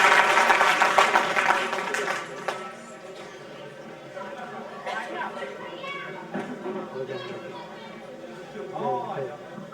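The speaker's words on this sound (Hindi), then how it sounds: "जोरदार तालियों से स्वागत और अभिनंदन।" Applause welcoming the chief guest at a community student award ceremony in a hostel hall: a loud burst of crowd clapping at the start fades quickly, followed by chatter and voices.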